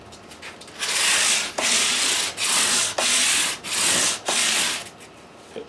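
Close, rhythmic scrubbing of 400 grit sandpaper over the fret crowns of a Les Paul guitar, about six even back-and-forth strokes with short pauses between them.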